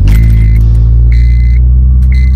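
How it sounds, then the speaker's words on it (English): A Honda K20 engine in an EP3 is cranked by its starter motor: close, repeated whining bursts over a steady low mechanical rumble. "It's unbelievable that the starter motor makes the same noise as the last starter motor did"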